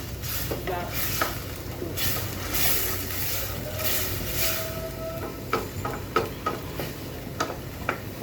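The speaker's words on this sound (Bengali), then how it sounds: "মশলাগুলো একটু গলে গিয়ে ভাজা একটু কষিয়ে নিব" Frozen spice paste with garlic sizzles in a pan for a country chicken curry, a steady low hiss broken by sharp scraping and tapping clicks from stirring, growing more frequent toward the end.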